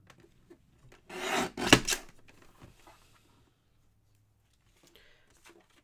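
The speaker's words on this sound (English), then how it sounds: "trim off this edge" A store-bought greeting card gets its edge trimmed, heard as a short, close rasping cut lasting about a second, followed by faint handling sounds in a quiet room.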